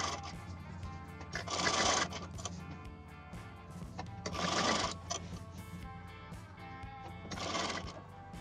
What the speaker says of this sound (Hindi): अब हम इसकी साइड साइड में स्टिचिंग कर देंगे